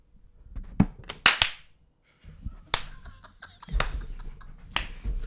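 Two people clap their hands for an intro, several sharp, close claps arriving unevenly and a little out of sync, with quiet gaps and faint voices between.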